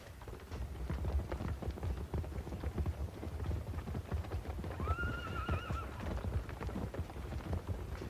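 A large herd of horses is driven across rugged terrain, with a steady rumble of hooves, scattered clip-clop, and a clear whinny rising above the mass of movement.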